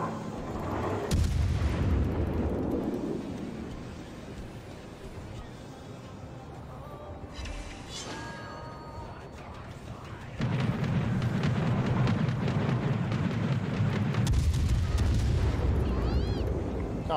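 A Zao warship's main guns fire in World of Warships, with heavy booming salvos that rumble and roll, followed by a long sustained roar as the shells land, while someone talks over the action.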